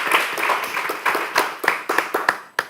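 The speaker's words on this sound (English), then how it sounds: "Let's give our girls soccer team a round of applause." A small audience at a school board meeting claps for the girls soccer team, sparse individual claps standing out in an uneven rhythm, close and fairly loud, with no talk over them.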